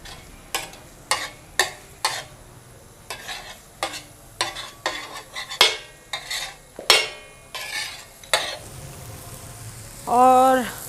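A spoon strikes and scrapes a pan in a quick run of sharp clinks while khaskhas (poppy seed) masala fries in about two tablespoons of oil under a soft sizzle. A short burst of voice comes at the end.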